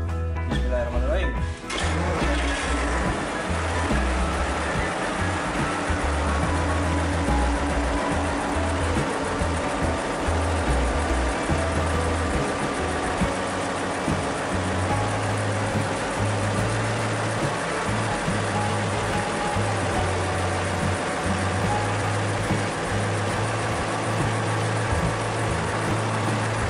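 A 12-cylinder Mercy diesel genset cranks over and starts, then settles into a steady, loud, low-pitched running drone that continues without a break.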